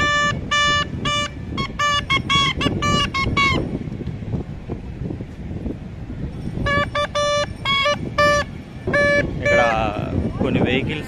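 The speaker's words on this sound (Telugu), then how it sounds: "హార్న్స్ కూడా అలాగే కొడతారు," Vehicle horns toot in quick rhythmic bursts on a Sri Lankan street during a protest, loud and close, in two clusters over crowd noise and talking.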